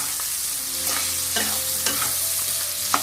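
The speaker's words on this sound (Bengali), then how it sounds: "পেঁয়াজ ক্যাপসিকাম মোটামুটি আমার ভাজা হয়ে গেছে।" Onions and capsicum fry in a pan with a steady sizzle, broken by scraping stirs from a spatula at a loose, irregular rhythm, with no talking.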